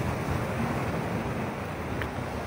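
Ocean waves at Cenang Beach in Langkawi, Malaysia, wash in as a steady, fairly faint surf hiss with wind noise across the microphone and no talking.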